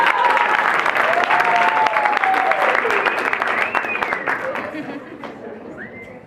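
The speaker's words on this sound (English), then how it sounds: "Big round of applause for the first edition of Extreme Football right here in Canada." Audience applause at a press conference for an Extreme Football event in Canada, dense loud clapping with a few whistles that gradually thins and fades toward the end.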